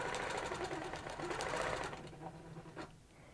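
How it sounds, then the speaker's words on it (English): A sewing machine stitches fabric up to a point, with a close, steady mechanical whir for about two seconds before it slows and stops, leaving a few faint clicks and near silence. "I'm going to stitch all the way up to the point."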